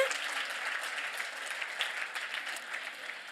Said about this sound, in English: Can you please give yourselves a round of applause for coming through, for learning, for enjoying, for having fun?